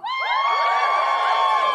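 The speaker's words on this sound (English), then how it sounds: "Just give us a cheer if you think you do a feminist job" A live comedy podcast audience in Brisbane, Australia cheers and whoops loudly as a crowd, a sustained burst of voices right from the start.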